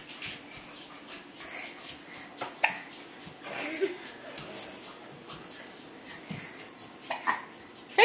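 A toddler's small hiccups sound faintly several times at uneven intervals against a busy room with light clatter and murmuring voices in the background.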